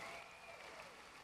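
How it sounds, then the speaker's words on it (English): A crowd at a state Democratic Party convention gives a round of applause, a dense, even patter of many hands heard at a distance in a large hall. "Let's give all our law enforcement personnel a big round of applause"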